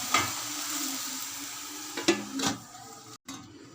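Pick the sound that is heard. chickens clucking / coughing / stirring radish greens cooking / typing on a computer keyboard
stirring radish greens cooking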